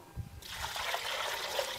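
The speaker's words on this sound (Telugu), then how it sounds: "ఇప్పుడు మనం ఇలా సన్నీళ్ళు పోసుకొని ఇది క్లీన్ చేసుకోవాలి" Water poured over goat tripe (boti) while it is being cleaned for curry, a steady close trickle and splash that begins after a brief quiet moment and runs on without pause.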